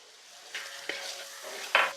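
Biryani masala fries quietly in a pan as curd is poured in, giving a soft sizzle broken by a few spoon scrapes and clinks against the pot. The last clink lands near the end.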